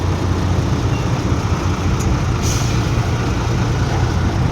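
A Deca 195 truck at a stone-crushing plant rumbles steadily nearby, a low diesel drone with a brief sharp air hiss partway through, and no voices.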